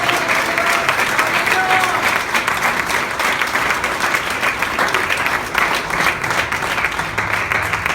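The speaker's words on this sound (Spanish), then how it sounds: "Un aplauso fuerte para el Señor." A congregation in church gives a strong round of applause, dense and sustained throughout, with some cheering and voices mixed into the clapping.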